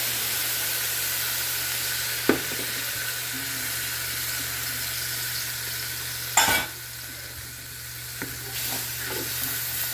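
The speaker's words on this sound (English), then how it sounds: "We'll go ahead and take some white cooking wine to deglaze" White cooking wine deglazes a hot pan with a continuous bright sizzle, while a few sharp utensil clanks and scrapes punctuate the steady hiss of the liquid and nobody talks.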